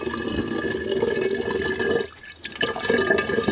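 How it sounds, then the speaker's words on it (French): Water runs and swirls steadily as it is poured into a vessel while preparing dynamised kefir, a continuous close watery rush that briefly drops away near the middle before resuming. "On voit bien là l'eau qui vrille."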